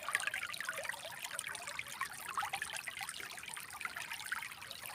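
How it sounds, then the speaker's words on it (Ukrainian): Spring water trickles and splashes continuously, a close, bright, bubbling flow with no voices, steady from start to finish. "Джерельна водичка."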